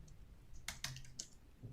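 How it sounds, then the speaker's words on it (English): Keystrokes on a computer keyboard during a Webflow design session, a few quick separate clicks over faint room noise, with no talking. "See, I'm just typing what I'm seeing."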